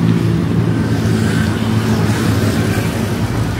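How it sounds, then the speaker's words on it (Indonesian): A vehicle with a loud, open 'brong' exhaust roars close by as it passes, giving a dense, steady rumble that stays strong for the whole few seconds. "Berisik banget"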